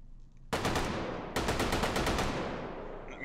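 A Bren light machine gun fires in the VR game Hot Dogs, Horseshoes & Hand Grenades: two loud, rapid bursts of automatic shots with ringing tails, the second burst longer than the first.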